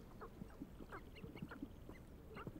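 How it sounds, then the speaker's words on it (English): Small ground birds in the Hogwarts Legacy video game give repeated short quacking, fowl-like calls over a busy, steady game ambience, several calls spread evenly through the clip at moderate loudness. "There's loads of little ground birds."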